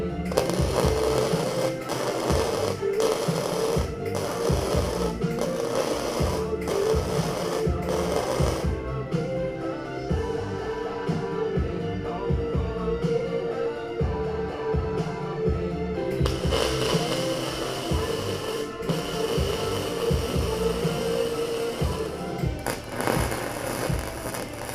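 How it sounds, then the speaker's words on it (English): Steel strut bars and seat mounts being welded for a Nemesis R1 build, a steady crackling buzz in close, repeated bursts separated by short breaks, with one longer continuous stretch in the middle. "So we'll get started and get this welded."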